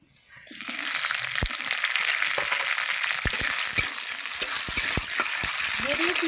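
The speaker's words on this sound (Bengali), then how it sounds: "তেলের মধ্যে দিয়ে দেবো ক্যাপসিকাম," Capsicum pieces hit hot oil in a kadai and start frying with a loud, continuous crackling sizzle, steady from just after the start to the end, with occasional clicks and stirring taps.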